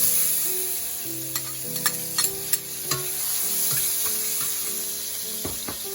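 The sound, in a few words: onion frying in oil and butter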